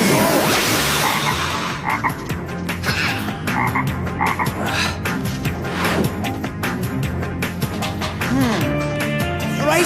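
Toads croak loudly and continuously in a dense, layered chorus, with sharp rasping calls over steady background sound and a voice partly mixed in.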